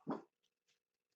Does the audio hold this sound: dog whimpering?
yes